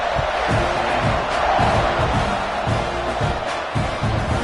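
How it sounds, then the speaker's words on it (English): Football stadium crowd buzzing after a score during a tie game in the third quarter, a dense, steady roar of many voices with scattered louder shouts and thuds throughout. "this crowd is buzzing after that last score"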